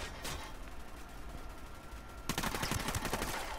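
Gunfire in the Ghost Recon: Wildlands video game, with a dense burst of sharp rapid shots breaking in partway through, following a stretch of steady ambient noise.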